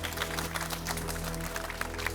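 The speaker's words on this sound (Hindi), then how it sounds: "आप इनके इस अति साहसिक कदम के लिए, उत्साहवर्धन के लिए तालियों से इनका स्वागत करें।" Audience clapping to welcome journalists at a gathering, a steady wash of many hands heard from a distance, with a low hum running underneath throughout.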